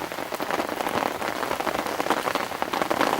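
Steady rain patters down beside a carp-fishing lake during wet British summer weather, a dense, even hiss of drops hitting surfaces with no voices.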